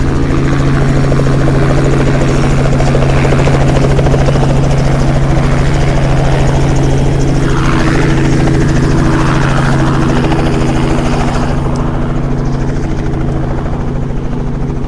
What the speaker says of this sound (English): There's a lot of helicopter sound, so it's a bit difficult to speak at this point.